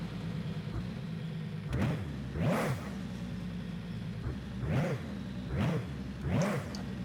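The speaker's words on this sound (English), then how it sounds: "We then get the dyno test in." A tuned car's engine on a dyno in the Forza video game revs up in five repeated surging pulls that rise and drop every second or so, with a steady engine drone underneath and no talking.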